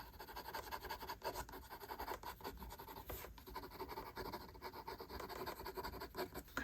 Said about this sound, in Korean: 이 왼쪽 콧대 한 번만 조금 더 어둡게 쉐딩을 해줍니다